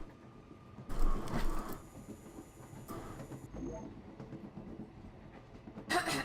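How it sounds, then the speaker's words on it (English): A train in Final Fantasy XV rolls in and slows to a stop, with steady rumbling wheels and carriage noise, a bright hiss near the middle and a sharp metallic squeal at the end. "We're waiting for the train to stop."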